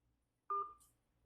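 A telephone keypad sends a single short DTMF tone, one clean electronic beep answering an automated phone menu.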